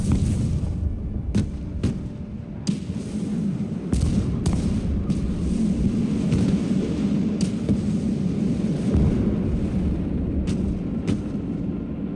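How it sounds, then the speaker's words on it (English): Artillery fire in the video game Broken Arrow: a steady barrage of booming impacts and sharp shell cracks at irregular intervals over a constant low rumble of battle. "Keep having this artillery kind of suppress them in their place."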